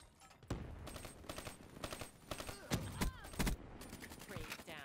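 The XR-2 rifle fires in Black Ops 3 in quick bursts and rapid sharp shots, with rattling gunfire scattered throughout at moderate, fairly quiet level and some background game sound.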